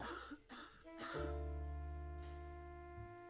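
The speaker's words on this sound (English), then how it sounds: "Why are you coughing up blood?" A few rough coughs, coughing up blood, come in quick succession at the start, close and raspy, followed by a low sustained tonal drone, in the game The Dark Rites of Arkham.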